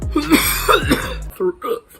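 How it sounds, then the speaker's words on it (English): Person coughing from capsaicin after eating spicy food: a few harsh, close coughs and throat-clearing bursts in quick succession, followed by short quieter breathy sounds. "Coughing."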